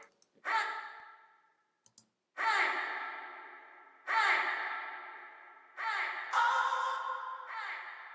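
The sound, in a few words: reverb effect on sound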